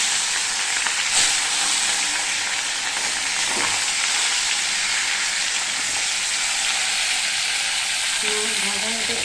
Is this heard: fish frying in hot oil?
yes